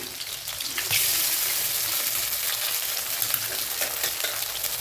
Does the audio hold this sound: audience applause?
no